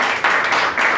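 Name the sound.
church congregation clapping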